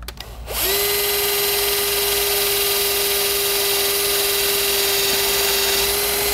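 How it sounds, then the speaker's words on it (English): A power drill runs continuously while boring through metal chimney cap flashing, a steady loud high whine holding one pitch after a short start-up, close and alone with no speech. "as soon as you feel it penetrate that second layer of flash, quit drilling"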